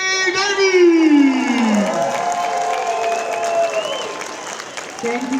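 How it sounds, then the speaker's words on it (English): A comedy night audience greets a speaker with loud applause and cheering, opening with rising whoops and shouts over sustained clapping that gradually settles. "please welcome to the stage with a rousing round of applause"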